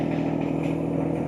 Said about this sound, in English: I do have the tractor running because I want to make sure that the arms don't settle during these measurements.